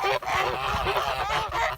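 Kholmogory geese by a stream honk loudly and repeatedly in overlapping nasal calls, close by and continuous, with a brief dip in the middle.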